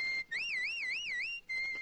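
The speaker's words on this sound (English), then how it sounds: "presents everybody's favorite whistle man" A man whistles a fast warbling trill on an old radio show recording, a clear, loud, pure tone that rises and falls in waves for about a second, alone without talk.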